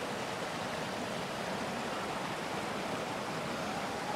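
Broad, steady rush of falling water at a waterfall, a constant dense roar with no breaks, fairly loud and close, with no voices over it.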